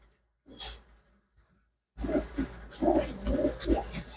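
A breeder's pigeons coo softly and close by, first a brief low murmur, then after a short silence a run of throaty, rolling coos that carry on to the end.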